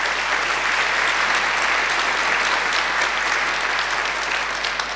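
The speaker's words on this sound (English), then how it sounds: "And also deserving a great round of applause are our fabulous musicians." At a graduation ceremony, the hall's audience claps for the musicians, organ and Chinese flute players, in sustained, even applause with a low steady hum beneath and no talking.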